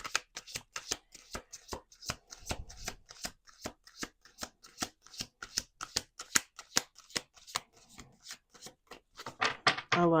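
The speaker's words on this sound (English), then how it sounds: "Let's do one more shuffle." Playing cards are shuffled up close: rapid crisp flicks and riffles, with a quick cascading riffle near the end.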